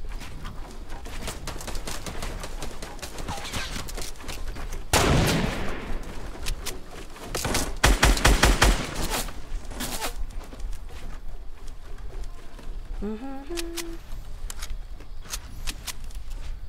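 Sniper and other gunfire from the video game Fortnite ring out in sharp bursts, with a loud cluster of shots around the middle and scattered cracks before and after, mixed with game effects.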